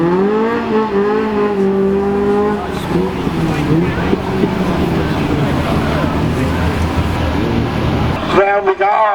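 Rally car at Weston Park Rally sweeping past at high speed, engine note rising and then falling as it goes by, followed by a rough mechanical roar, with spectators talking over it.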